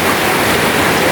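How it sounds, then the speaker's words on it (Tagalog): Heavy rain in Quezon province, Philippines, a dense, even hiss of downpour that stays loud and unbroken throughout. "Maulan po pa talaga dito. Yun, lakas ng ulan."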